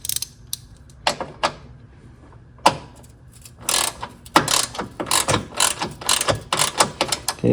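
Ratchet clicks as a bolt is tightened on a Honda battery terminal extension, starting with a few scattered strokes, then quickening into rapid, loud, close bursts of clicking.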